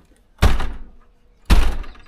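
Two heavy thuds about a second apart come from the rusty latch mechanism of an old door in a derelict Irish cottage, both close and loud with no voices.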